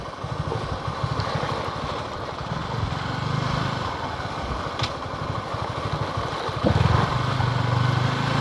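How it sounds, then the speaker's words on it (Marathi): An adventure motorcycle rides over a rough, bad road near Kolhapur, its engine droning steadily up close with a rattling, pulsing low thrum and occasional clatter. "आपली ॲडव्हेंचर बाईक आहे म्हणून आपण रफ्फारफ जातो खराब रस्त्यात ना"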